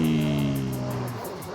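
Ferrari with an Italian V8 in Forza Horizon 5, a steady engine drone with strong harmonic lines that holds briefly, then fades and thins toward the end; no talking.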